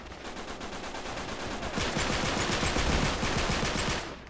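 A mounted turret machine gun in the Uncharted 3 multiplayer video game fires in a long rapid stream, with bursts that grow louder and denser midway before easing off near the end.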